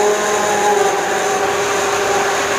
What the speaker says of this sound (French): Et je vais mixer la soupe comme ça, totalement.